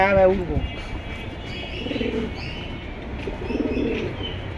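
Soft, low pigeon coos sound twice after a brief voice at the start, over a faint background hiss.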